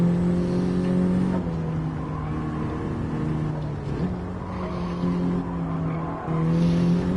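A front-wheel drive car in Gran Turismo 7 brakes hard, its tires skidding and squealing in long steady tones over a loud engine drone, with brief dips as the car shifts.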